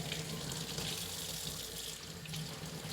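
A tap runs steadily into a sink or tub to bathe a puppy, giving an even, splashing stream of water that continues unbroken at moderate volume.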